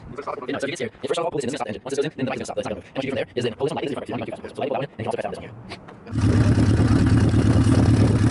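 A motorcycle engine revs in first gear as a beginner rides, a loud steady roar rising in the last two seconds after a stretch of close excited talk.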